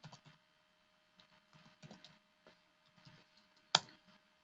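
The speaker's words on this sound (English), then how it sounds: "Let's type lsusb-help" Keys tapped on a computer keyboard while a Linux command is entered, a quiet scatter of soft clicks in short bursts ending with one sharper keystroke, like the Enter key.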